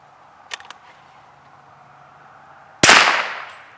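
A single loud report from a Daisy plastic takedown .22LR rifle, sharp and close with a short decaying tail, preceded by a couple of faint clicks and light background noise.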